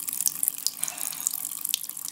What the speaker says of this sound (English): No, keep the water running.